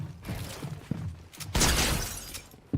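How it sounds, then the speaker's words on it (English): A video game shield breaking makes a sudden shattering crash with a sharp burst of bright, glassy noise, preceded by softer thuds and game sounds, loud and close. "you're talking about the shield breaking thing"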